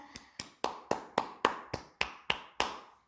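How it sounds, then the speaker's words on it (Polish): About ten sharp claps in a slow, steady rhythm, close and fairly quiet with nothing else under them, applauding the winning family at a family contest. "Brawa wielkie!"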